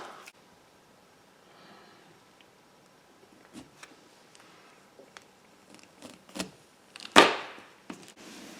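A sharp knife slicing through a lime on a cutting board while making homemade soda, with several soft, scattered cuts and taps close by and one louder, sharp strike near the end.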